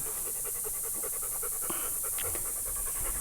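A hunting dog pants rapidly and steadily at close range during a dove hunt, quick rhythmic breaths continuing throughout over outdoor background hiss.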